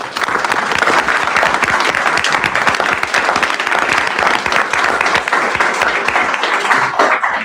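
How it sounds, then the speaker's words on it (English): An audience at a school board trustees' meeting gives a team a round of applause, with loud, dense, sustained clapping from many hands that carries on steadily throughout. "give their team another round of applause"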